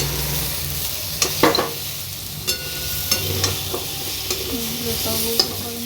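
Soaked soybeans are stirred through a pointed gourd curry in a cooking pan, with a soft scraping spoon and light clacks against the pan over a constant low sizzle.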